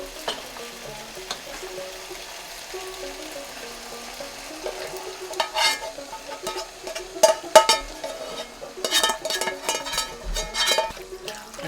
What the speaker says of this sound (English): Add our sauce and meat to the noodles.